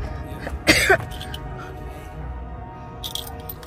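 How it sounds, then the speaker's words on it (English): A man on an off-grid bathroom renovation site gives a sharp burst of coughing, then a faint throat-clearing later, close against low background noise. "I'm still coughing."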